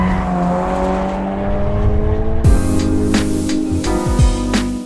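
A 2008 Honda Civic Type R FD2R pulls away, its engine note rising through the revs with a gear change midway, close and fairly loud with road noise underneath.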